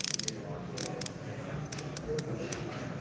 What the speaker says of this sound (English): That ratchet.